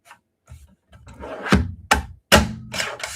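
A new paper trimmer slicing through card with a few sharp scraping strokes and a firm clunk, close and fairly loud, with short gaps between cuts.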